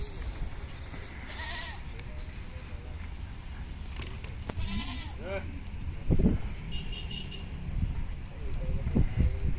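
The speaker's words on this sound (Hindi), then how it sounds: "बकरी आती है बच्ची" Goats bleat repeatedly at a goat farm market, several calls near and far over a busy crowd murmur, with people talking throughout.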